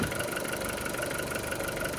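An Audi A2 1.4 MPI engine idles steadily while warming up, with a constant low rumble and hum, unbroken for the whole stretch, close by.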